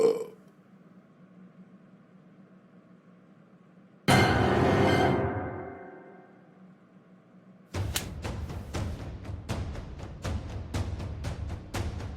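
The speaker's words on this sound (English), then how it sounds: "How dare you burp in front of me?" A loud, drawn-out belch bursts out in a comedic puppet skit, fading into quiet hum before a stretch of busy clattering noise.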